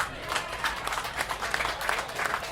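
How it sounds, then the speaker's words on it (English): Audience applause at an outdoor village fest in South San Jose, steady broadband clapping throughout with a few louder bursts, mixed with crowd noise and some voices nearby. "Give them a round of applause."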